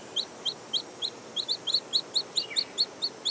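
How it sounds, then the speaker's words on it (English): A woodchat shrike calls in the Bardenas Reales desert, repeating short, sharp chirps at a brisk, even rhythm of about three per second, clear and fairly close against a quiet background. "this woodchat shrike can raise its offspring in this desert"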